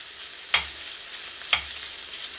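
Beef meatballs being set into sunflower oil in a pan over medium heat, with a steady sizzle and two sharper bursts of spitting about a second apart as pieces land, no talk.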